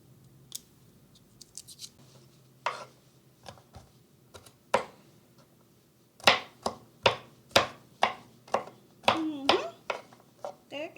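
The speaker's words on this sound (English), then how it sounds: "Let's get our garlic chopped down to a good size." A knife chopping garlic on a cutting board: scattered sharp, close taps at first, then a quicker run of about ten loud, crisp chops.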